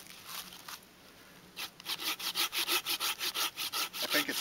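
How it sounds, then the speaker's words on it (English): Hand saw cutting fatwood to shape the point of a Swedish fire torch outdoors: quiet rustling at first, then a run of about fifteen quick, rhythmic rasping back-and-forth strokes, close and clear. "I think I'll use my saw to Sharpen it?"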